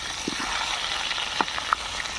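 Food frying in hot oil at an outdoor cooking gathering with friends, a constant even sizzle with a couple of faint knocks and pops, heard alone without talk.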